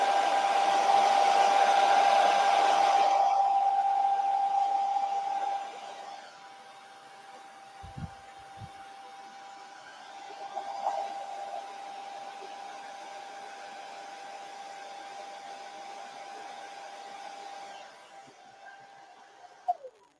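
A blow dryer aimed at chalk paste on a silk screen roars loudly for about five seconds and then cuts off, leaving quiet room tone with a faint steady tone and a couple of small knocks.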